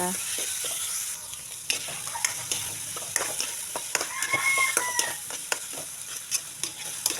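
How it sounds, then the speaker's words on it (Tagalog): Hotdog pieces frying in a pan with light-browned garlic and onion, a steady sizzle under scattered clicks and stirring taps throughout, moderately close. "kapag mag-light brown na yung ating bawang at sibuyas, lagyan natin yung ating hotdog. Para medyo ma-fried siya."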